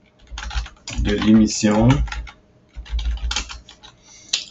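Keys clatter rapidly on a computer keyboard while text is entered in PowerPoint, a close patter of clicks running beneath a French-speaking voice and continuing in bursts after the talk pauses.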